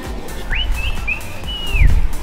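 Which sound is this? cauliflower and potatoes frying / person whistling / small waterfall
person whistling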